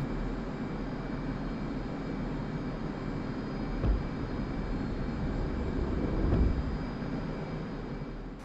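An F/A-18 Hornet makes a catapult launch from a carrier deck in the DCS flight simulator, with a steady jet-engine roar over a low rumble. Two brief surges of louder thrust swell partway through.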